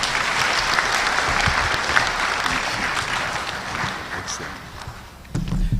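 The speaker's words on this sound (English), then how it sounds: "Let's clap for Mr. Anthony Sapon, Senior Partner of KPM" Audience at a financial year audit launch event in Ghana applauding, a dense sustained burst of many hands clapping that thins slightly toward the end before a louder swell, fairly close and loud.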